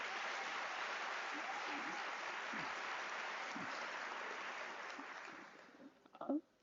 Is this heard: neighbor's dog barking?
no